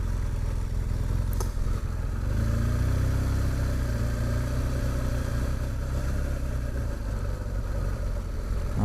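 A vehicle engine hums steadily in first gear on a drive near Omaha Beach in France. It's a low, continuous drone with some light clatter, close and fairly even throughout, with no talking.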